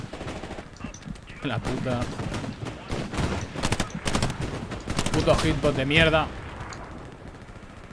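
Rapid gunfire from the Hell Let Loose war game crackles in dense bursts of automatic shots, loud and close, while a player swears over the shooting.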